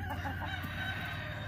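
A rooster on a farm crows close by, a loud sustained cock-a-doodle-doo with harmonic strain, heard alone without talk.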